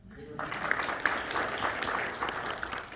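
Audience applauding at a legislative breakfast with Saline County legislators, steady moderate clapping that starts after a brief quiet moment and continues throughout, with some murmured voices underneath.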